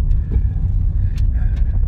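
A small Honda Jazz SE automatic drives on a short test drive at around 30 to 40 mph, with a steady, close engine and road rumble heard from inside the car and no talk.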